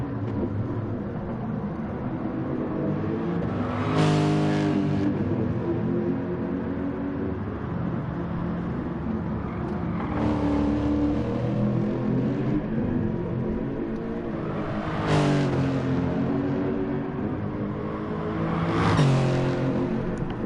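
Race cars engines from a sim-racing league at Interlagos, with steady engine drone throughout and recurring whooshing swells as cars pass or rev, roughly every five seconds.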